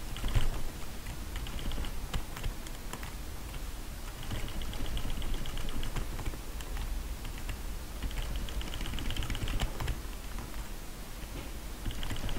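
Fast, steady computer keyboard typing clatters close up for several seconds, with dense key clicks over faint background game sounds and a recurring high tone.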